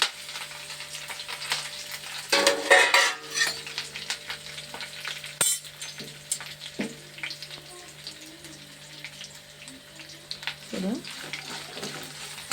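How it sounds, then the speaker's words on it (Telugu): Curry leaves, cumin and mustard seeds drop into hot oil for tempering, and a loud sizzle bursts up near the mic before settling into a steady, quieter fry with occasional crackles and spoon scrapes. "ఇందులో వేసేస్తున్నాను పోపులు."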